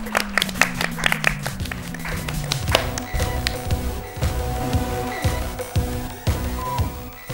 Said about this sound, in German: Ein Applaus für Sarah!